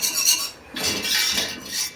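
A metal whisk scrapes and rasps against the inside of a pot while making cheese sauce, a few quick strokes, close up and fairly quiet, with no talking.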